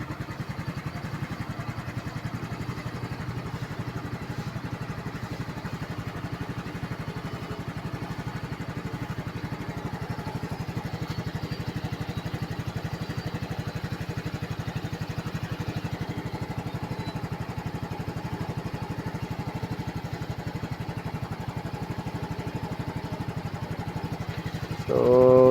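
A scooter engine runs steadily at idle for the whole stretch, a continuous low droning putter with a brief louder clatter at the very end.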